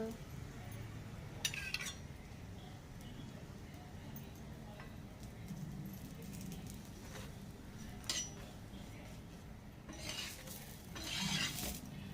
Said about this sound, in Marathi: थोडंसं तूप टाकते मी मस्त आणि परतून घेते